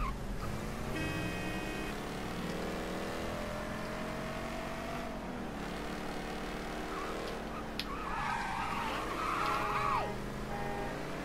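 A car being driven in the video game Mafia 3: a continuous engine drone shifting in pitch as it manoeuvres, with a brief scrape of skidding tyres toward the end.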